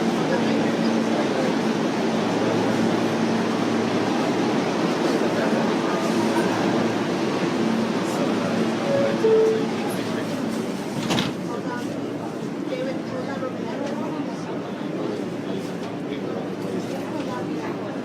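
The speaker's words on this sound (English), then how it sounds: "Express train. The next stop is" An express subway train runs with a continuous low rumble and rattle, while a voice speaks over the rail noise.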